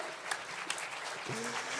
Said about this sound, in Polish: Ale brawa jak najbardziej zasłużone.